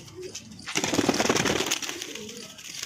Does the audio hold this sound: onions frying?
no